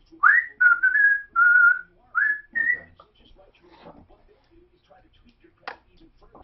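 A person whistles a short tune of five or six clear, sliding notes into a microphone, followed by quieter rustling and a brief click.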